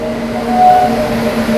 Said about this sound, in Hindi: सामने से आ रही है आप लोगों की बीकानेर गुवाहाटी एक्सप्रेस आ रही है